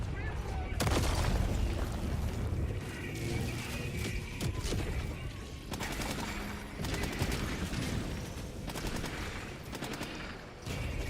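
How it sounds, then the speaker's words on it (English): Assault rifle fire in the video game Fallout 3, loud bursts of rapid automatic shots with sharp cracks and booms repeating across the stretch, a voice talking in between. "I like how the assault rifle sounds better than in Halo 4"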